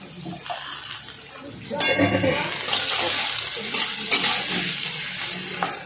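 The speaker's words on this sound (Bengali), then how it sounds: "মিডিয়াম ফ্লেমে ভাজতে হবে যেন পুড়ে না যায়" Carrots and mixed vegetables frying in a pan over a medium gas flame for chirer polau, a steady close sizzle with stirring scrapes growing louder midway and running throughout.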